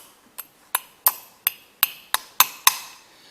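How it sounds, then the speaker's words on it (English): Nine sharp metallic hammer strikes, knocking a bearing into an aluminum piece in a shop, ring out alone at a steady, slightly quickening rhythm, each hit bright and close with a short decay. "Oh, here's the hammer right here."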